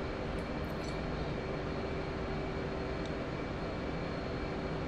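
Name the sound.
fighter jet engine during carrier takeoff in DCS World, from a video game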